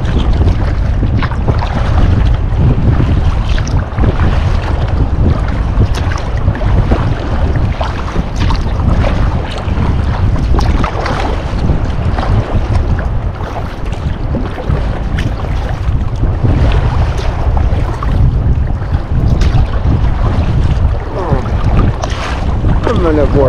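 Waves and boat wakes slosh and splash around a sea kayak on an archipelago sea, loud and close over steady wind buffeting the microphone, a constant choppy wash throughout.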